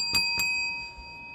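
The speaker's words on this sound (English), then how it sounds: "to ring the bell for her?" A small hand bell rings twice at a live sale, two quick bright strikes close to the mic whose metallic tone lingers and fades under a quiet room.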